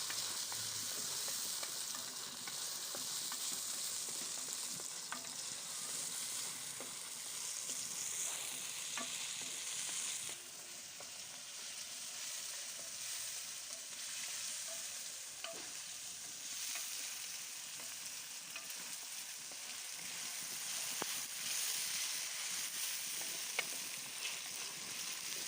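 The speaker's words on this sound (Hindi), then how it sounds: "हम इसमें टमाटर ऐड कर देते हैं। बिस्मिल्लाहिर्रहमानिर्रहीम। टमाटरों को भी अच्छी तरह से गलने देंगे हम।" Tomatoes fry with browned onions in a pan for an okra and egg dish, giving a steady, soft sizzle throughout with occasional faint stirring scrapes.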